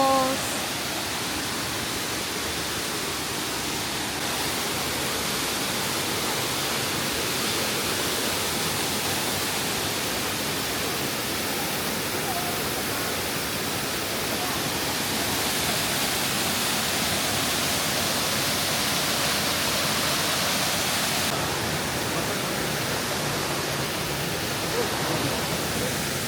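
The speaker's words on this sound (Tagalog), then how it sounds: "Ganda ng falls." The waterfall at Nunobiki Herb Garden in Kobe gives a continuous broadband roar of falling water, steady and enveloping from start to finish.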